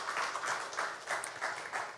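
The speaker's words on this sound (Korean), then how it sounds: "우리 하나님께 영광의 박수 올려드리겠습니다" A church congregation at a Sunday worship service claps in a quick, steady rhythm of faint, evenly spaced bursts heard from a distance.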